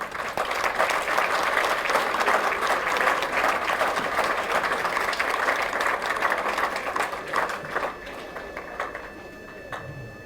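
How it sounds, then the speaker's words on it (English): Graduates and postgraduates in engineering and technology degrees applaud for themselves in a hall at SGT University's convocation, a dense, loud sustained clapping that thins and softens over the final two seconds. "You can clap loudly for yourself once."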